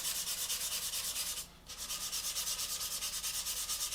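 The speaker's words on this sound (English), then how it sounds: "All we do, very lightly sand over the top" Steady, even sanding strokes from an older sanding sponge lightly rubbed over a seam on a 1/48 Airfix Sea Vixen plastic model kit, close and continuous with a brief pause midway.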